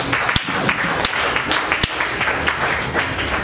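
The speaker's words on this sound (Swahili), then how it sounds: "Mbele makofi utukufu." A church congregation gathered for a blessing prayer session claps together in a sustained, fairly loud round, with a few sharp louder claps or knocks punctuating the steady patter.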